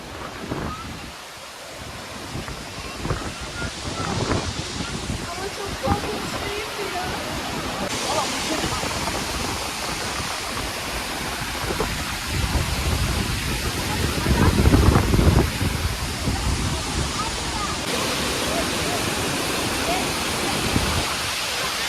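Kapuzbaşı waterfall in Kayseri roars as a loud, continuous wash of rushing water, close and steady for the whole stretch, swelling slightly midway, with faint voices beneath the noise.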